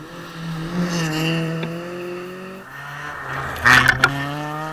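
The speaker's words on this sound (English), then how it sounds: "VTEC powered Civic has lots of power, so the straight road's giving him an advantage" Honda Civic rally car with a VTEC engine running flat out along a straight gravel stage, its rising engine note steady and close, then a brief louder burst of revving and gravel near the end.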